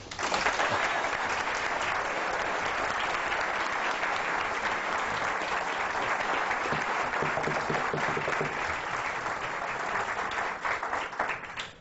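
Dense, sustained applause from a large audience welcoming Dr. Charles Houston at an event in Burlington, Vermont, with close, continuous clapping that holds steady before tapering off slightly at the end.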